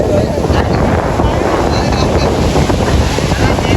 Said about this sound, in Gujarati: દરિયામાં મોજા